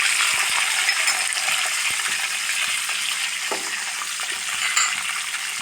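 Sliced onion sputters in hot oil with curry leaves, a loud, continuous close-up sizzle broken by faint stirring clicks and a small metallic tap near the end.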